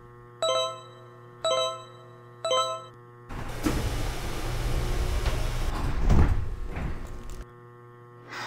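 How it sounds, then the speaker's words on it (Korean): In an Open BVE train simulation of a Daegu Metro Line 4 subway train, three door-warning chimes ring, then the doors slide shut with a long rumbling whoosh that ends in a closing thud. "출입문을 닫습니다."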